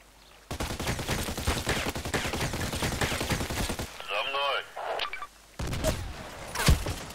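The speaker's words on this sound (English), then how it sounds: "If he's shooting me from this position" Gunfire in the online shooter Contract Wars, sustained rapid automatic bursts in steady rattling rhythm, loud and close, pausing briefly before more shots resume, with someone talking over parts of it.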